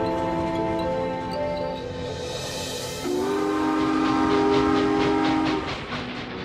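A train passing near a station, its rumble and wheel clatter underneath while a sustained horn or whistle sounds in layered tones that shift pitch midway and swell louder before fading.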